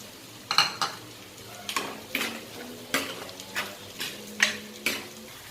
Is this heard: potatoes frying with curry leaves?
yes